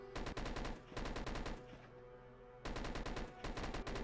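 Rapid automatic gunfire rattles out in dense bursts during a Dead Ahead: Zombie Warfare battle against eggs. The bursts are loud and close and stop in two short pauses, with no talk.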